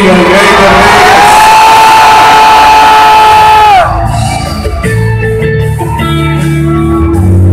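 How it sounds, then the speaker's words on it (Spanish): A large crowd at a worship concert in New York shouts and cheers for joy, a loud sustained roar of voices that drops to scattered yells and music afterward. "¿Alguien puede dar un grito de júbilo al Rey de Reyes?"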